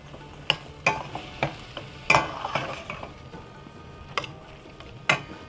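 Tomatoes simmering and softening into a thick paste in a pan over a gas flame, a low steady sizzle broken by several sharp clinks and scrapes of a utensil stirring, close and alone.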